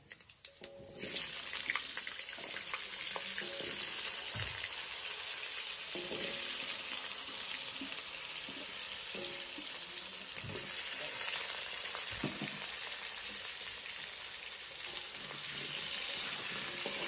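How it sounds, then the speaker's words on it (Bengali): Khichuri is set on to cook in a pot at a free ashram kitchen on a rainy day, giving a faint, continuous sizzling hiss broken by occasional clanks and knocks of utensils. "এই যে খিচুড়ি বসানো হচ্ছে"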